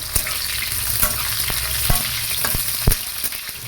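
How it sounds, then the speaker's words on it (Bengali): Sliced bitter gourd fries in hot oil in a wok, a loud continuous sizzle broken by sharp clinks and scrapes of a spatula stirring, close up and with no voices. "তেলটা গরম হয়ে যাওয়ার পর তুমি উচ্ছেটা দিলে উচ্ছেটা ভেজে তুলে রাখবো"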